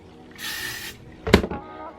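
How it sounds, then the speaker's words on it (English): A short hiss of Gatsby hair spray lasts about half a second and is followed by a sharper clatter or knock. The whole clip is fairly quiet. "we're gonna use the Gatsby spray again, and we're gonna spray it all over it."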